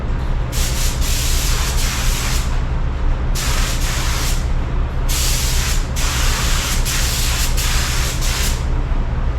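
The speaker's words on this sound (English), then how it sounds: "we'll get our clear coat mixed up and we're going to clear it" A spray gun lays clear coat over black automotive paint, sending out three long steady hissing bursts separated by short pauses, loud and close against a constant low compressor hum.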